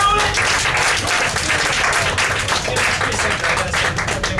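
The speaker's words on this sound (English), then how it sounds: "Come on, let's give a round of applause, guys." Loud, dense applause from an anime convention audience at a game-show style panel, steady and close throughout, with faint voices mixed into the crowd.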